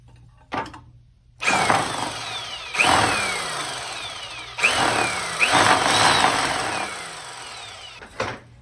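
A worn-out rotary hammer motor starts up and runs in several long, loud bursts, revving and winding down between runs with a rough, rattling drone.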